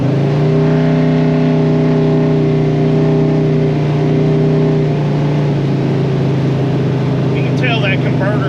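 An old Ford F100 pickup over 50 years old with a loose torque converter, driving with a loud steady engine drone heard from inside the cab, pitch holding then shifting midway, while a person talks.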